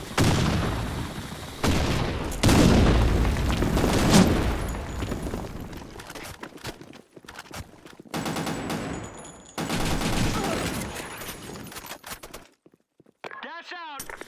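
Gunfire and grenade blasts from the Blackshot shooter game on the Sand Storm map, loud dense bursts of automatic fire with sharp breaks and a few pauses, ending in a short warbling electronic tone.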